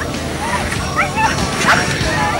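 Sled dogs bark and yip before the start, short excited yelps rising over a crowd and over talk.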